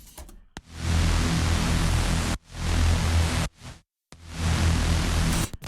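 Synthesized noise is swept by an auto filter driven by an LFO. Loud broadband hiss moves in long bursts with brief gaps and abrupt cutoffs.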